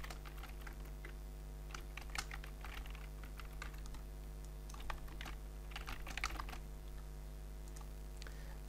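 Someone types a login and password on a computer keyboard, with light, irregular key clicks and small bursts of taps over a steady low electrical hum.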